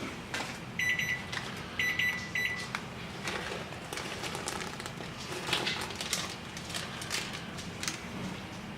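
A kitchen timer alarm during homebrewing beeps brightly in short repeated bursts, three clusters in quick succession, over a steady background hiss and clatter.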